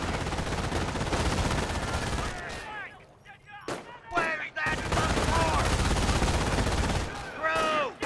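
Sustained MG42 machine gun bursts in the video game Company of Heroes, loud and dense, briefly dropping out before resuming, mixed with other gunfire and battle noise.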